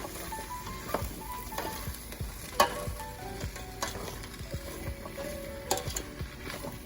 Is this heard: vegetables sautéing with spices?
yes